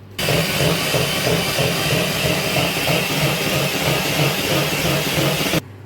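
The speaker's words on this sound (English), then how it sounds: "I'm going to mix it with a mixer on a high speed." An electric mixer whirs steadily on high speed while beating buttercream icing, a continuous loud motor drone with a gritty churning texture that starts and stops abruptly.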